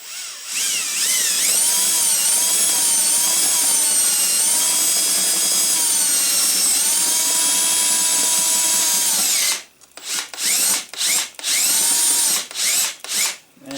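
A power drill whines steadily at high pitch for several seconds, then stops and starts in short bursts as it bites into a metal utility trailer pin.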